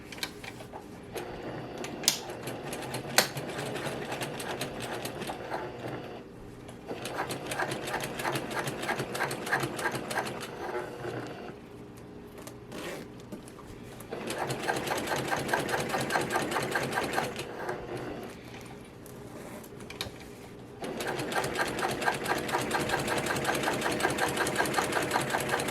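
A sewing machine topstitches along the zipper lining of a quilted shoulder bag, its rapid needle chatter running steadily in long close-up bursts with brief slower pauses between passes.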